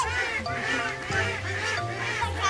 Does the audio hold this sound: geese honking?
yes